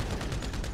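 Rapid gunfire in GTA V Online during a parkour deathmatch, a dense run of shots packed close together, fairly quiet and without talk.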